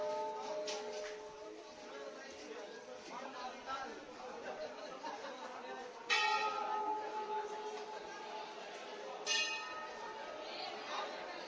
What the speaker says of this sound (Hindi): इस घंटी को बजाते हुए आप प्रवेश कीजिए।